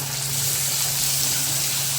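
Onions and chopped tomatoes sizzle steadily in a hot pan for chicken biryani, a continuous close frying hiss with a low hum beneath and no talking.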